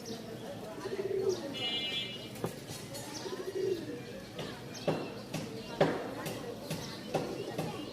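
Rajshahi Giribaz pigeons coo softly in a few low, rolling calls, with occasional chirps and nearby handling clicks in the background.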